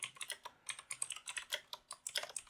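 Rapid, steady keystrokes clatter on a computer keyboard as a Linux update command is typed, continuous close clicking with no voices.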